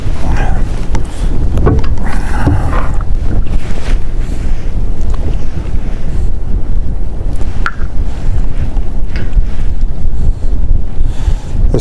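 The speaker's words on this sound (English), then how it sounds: "The wind is already coming hard." Strong wind blows hard across the microphone during a fishing trip, a loud, constant buffeting roar with gusts that never lets up, while a voice speaks faintly beneath it.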